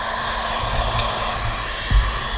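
A heat gun set on low blows a steady, close whooshing hiss while warming tinted tail light film on a 2021-2024 Chevy Tahoe or Suburban, with a soft knock near the end.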